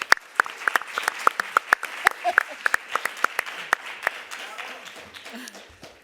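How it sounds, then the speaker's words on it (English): Audience applause at the Berlinale 2025 press conference for the film Dreams: a moderately close burst of clapping from a crowd, steady sharp claps running several seconds before thinning out toward the end. "we can clap"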